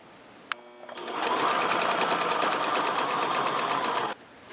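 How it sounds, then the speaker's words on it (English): A sewing machine stitches a seam along quilt strips, a fast, even mechanical chatter close up that runs for about three seconds after a brief click, then stops abruptly. "Line them up on one edge and sew down the seam."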